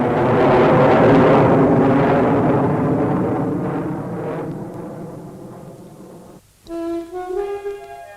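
Royal Air Force aircraft from around 1948 to 1953 roar loudly, a dense broad rumble that slowly fades as it passes; orchestral music abruptly takes over near the end.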